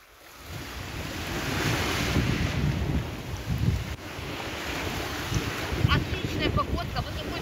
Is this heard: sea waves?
yes